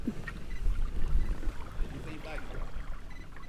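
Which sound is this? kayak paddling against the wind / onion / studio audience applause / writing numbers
kayak paddling against the wind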